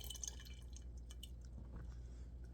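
Excess water drips and trickles as it drains out of a wet potting soil mix for philodendrons, a steady low watery run with scattered small drips, close and alone.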